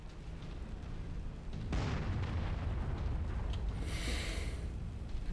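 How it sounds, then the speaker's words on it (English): Distant artillery fire rumbles in a MechWarrior video game battle, a broad low boom swelling at about two seconds and holding as a continuous heavy roar, with a brighter hiss later, no talk. "little bit of artillery in the background."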